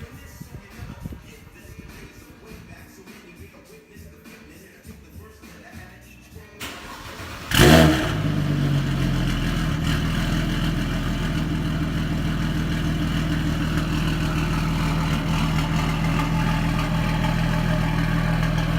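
A big-turbo BMW 335i E92 engine fires up with a sharp burst, then settles into a steady, loud idle drone that continues unbroken after a quieter stretch of background noise.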